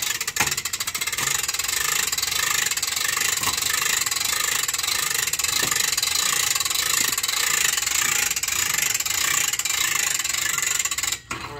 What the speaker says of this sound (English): now you just gotta put your back into it and crank this thing up